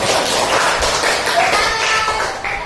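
A classroom full of students claps in dense, steady applause, loud and close, continuing without pause for a few seconds.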